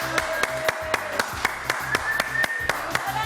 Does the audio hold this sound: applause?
yes